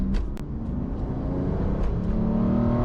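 A big V12 engine in an Aston Martin Rapide revs up under throttle, a deep rumbling exhaust note building and holding steady, close by with no voices.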